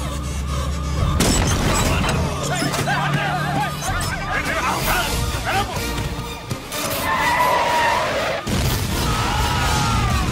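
A bomb explodes in a courtroom movie scene, a heavy boom followed by crashing debris and a chaotic babble of shouting voices, with further loud impacts rumbling through the dense, busy mix.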